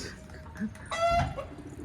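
A brief, nearby cluck from a chicken, a short throaty call over a quiet background.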